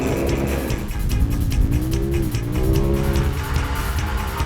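Polaris RZR UTVs racing in a desert off-road championship, engines roaring steadily with rising and falling revs, loud and close throughout without voices.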